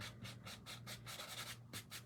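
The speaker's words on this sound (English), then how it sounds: "So, I'm going to take this sanding block again." A sanding block rubs back and forth across a surface in quick, steady rasping strokes, close and fairly quiet.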